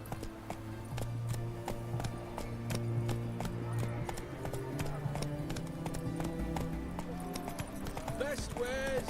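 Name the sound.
Roach the horse trotting in The Witcher video game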